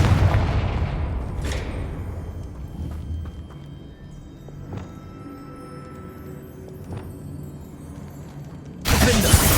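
A Confringo explosive spell blast from Hogwarts Legacy, with a loud broadband burst at the start and another sharp one at the end, plus several fainter impacts in between.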